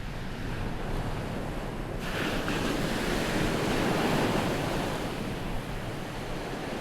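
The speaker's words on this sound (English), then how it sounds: "The power and majesty of the waves on one side" Sea waves breaking along the Odisha coast beside a thin sandbar, a loud continuous roar of surf with wind buffeting the microphone and a swell building toward the middle.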